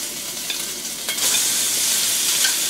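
Ginger and bacon frying in about three tablespoons of oil in a wok over medium heat, a continuous bright sizzle with brief louder crackles as the pieces are stirred, close up and with no talking.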